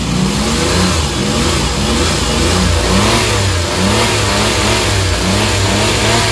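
A Suzuki mini van's K6A engine revs repeatedly in short bursts, loud and close, with a steady rumble between throttle blips.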